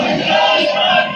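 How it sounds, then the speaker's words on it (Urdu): Large political crowd chanting slogans in unison outside parliament in Pakistan, a loud, dense mass of voices filling the air continuously with no single speaker standing out. "یہ جناب نعرے لگ گئے پارلیمنٹ کے باہر"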